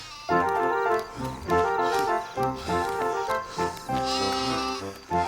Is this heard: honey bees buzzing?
no